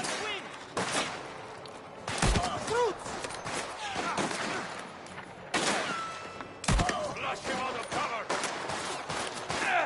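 Gunfire in the video game Mafia: The Old Country comes as repeated sharp shots and short volleys, loud and close, with a player's voice talking over the action and game sounds between shots.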